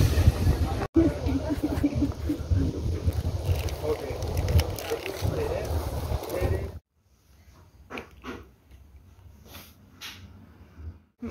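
Wind gusts roar outdoors in Bursa, rumbling loudly against the microphone for several seconds before dropping away to quieter rustles, with a voice speaking over it.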